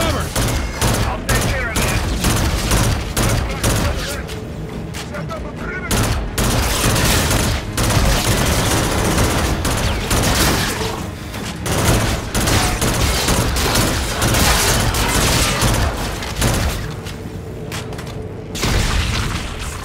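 Dense gunfire in the video game Call of Duty: Infinite Warfare on PC, rapid automatic bursts and heavy booms hammering almost continuously, loud and close, with brief lulls between volleys.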